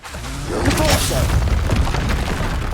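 Depulso spell cast in Hogwarts Legacy: a booming magical blast with a whooshing sweep, rumbling on for a couple of seconds, with a voice speaking over it.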